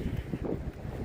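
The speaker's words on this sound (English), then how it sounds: "Apologize about the noise, the wind picking up." Heavy wind buffeting a microphone, a continuous low rumbling roar with gusty surges, loud and close throughout.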